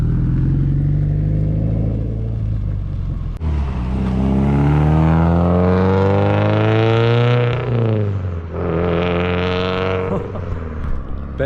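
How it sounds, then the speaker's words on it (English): A car fitted with a swapped downpipe and Q300 exhaust pulls away, loud and close, its engine revving up through rising sweeps, dropping briefly between gears, then climbing again before fading. "Alright, Ben's giving it a drive."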